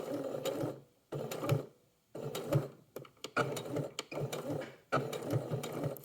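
A domestic sewing machine stitches in short bursts with brief pauses between runs while a hook-and-eye closure is sewn on, a close, steady mechanical whirr and rattle.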